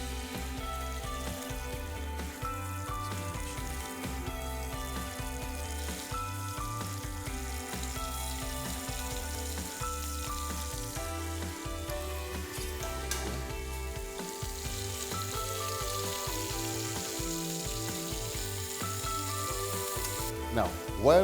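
Fish browning in a hot frying pan gives a steady, close sizzle and crackle that runs unbroken throughout, with a faint musical bed beneath.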